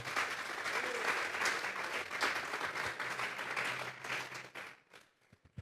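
A church congregation claps loudly in a sustained burst of applause with some voices mixed in, the clapping tapering off and breaking into a few last scattered claps before quiet.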